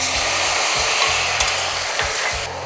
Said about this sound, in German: jetzt sind teilweise Kandiszucker schon geschmolzen und ich möchte jetzt auch sofort Reiswein reinmachen